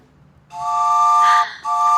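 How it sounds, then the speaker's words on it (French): Loud, steady two-tone train whistle held for about a second, with a short dip before it sounds again, in a French children's learning setting. "Le train siffle."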